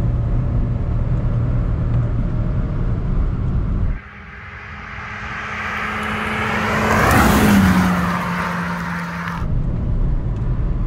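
A Volkswagen Polo 1.0 TSI with 128 hp accelerates in third gear: the engine drones steadily, dips briefly, then climbs in a rising, loud whine heard from inside the car.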